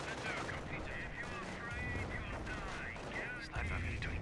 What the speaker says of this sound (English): Snipers poke in and get some big shots there.